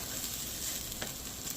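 Rice frying in a pan for pulao gives a steady, close, even sizzle with a faint stir or scrape near the middle, and no voices.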